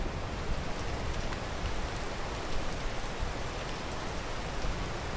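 Steady, dense hiss of rain falling on Marcus Peak, even and continuous with no pauses, fairly close and moderately loud.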